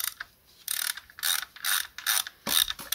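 Ratchet wrench fitted with a long socket working on a Mercedes W245 OM 640/641 diesel engine during a timing chain job: about five close, loud bursts of rapid clicking separated by short pauses.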